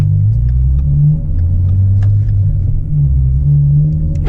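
A Kenworth heavy diesel truck engine with a single 5-inch exhaust pipe gives a loud, deep, close rumble that swells and eases slightly as it revs, steady throughout with no talking.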